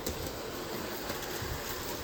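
An LGB Stainz G scale model train runs on a reversing loop layout, giving a steady, fairly faint rolling rumble with light track noise that holds evenly throughout, with no voices.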